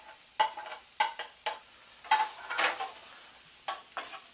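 Garlic fries in a pan, with a faint sizzle beneath repeated clinks and scrapes of a utensil stirring against the pan at an irregular rhythm, close and quiet.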